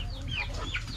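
Chickens cluck and chirp close by in short, busy bursts while eating black soldier fly larvae, over a low background hum.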